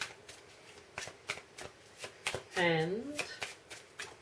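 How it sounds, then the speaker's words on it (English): Moon tarot cards are shuffled in a series of crisp, rhythmic riffling bursts, close and steady, while someone talks and a brief musical tone rises in the middle. "So I shall start shuffling some moon cards"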